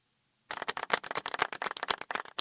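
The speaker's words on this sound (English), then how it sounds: "So applause for our lovely Sweet" Applause for a girl named Sweet at an online roll-call gathering: a burst of close, dense hand clapping starts abruptly after half a second of silence and continues steadily to the end.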